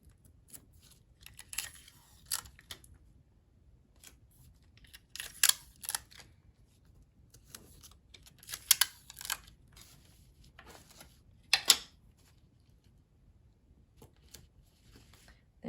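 Small pieces of tape are torn and pressed onto the corners of a napkin for a parachute science project, with several short, sharp crackling bursts spaced apart in a quiet room.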